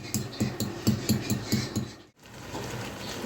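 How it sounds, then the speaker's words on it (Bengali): A pestle pounds roasted spices and black pepper in a mortar, sharp rhythmic thuds at a quick, steady pace, close and clear, broken by a brief pause. "মশলাগুলোকে এবার আমি হামালদিস্তার সাহায্যে গুঁড়ো করে নেব"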